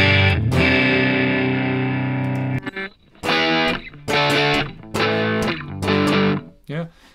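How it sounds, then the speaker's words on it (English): Electric guitar through a high-gain distorted amp preset in Logic Pro X: a long ringing chord, then a series of loud, chunky bursts with brief silences between them. "And there's high gain, distorted, these are all high gain"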